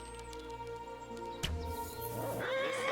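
A horse in the medieval video game Kingdom Come Deliverance gives a clear, drawn-out whinny at moderate distance, followed by a sharp thud and rising scuffling game sounds.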